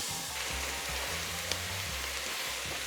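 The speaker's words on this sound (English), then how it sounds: "So now we're going to go ahead and get our ground beef, ground sausage started." Ground beef and ground sausage fry in a pan with a steady, soft sizzle and faint crackle throughout, close and fairly quiet, with no talking.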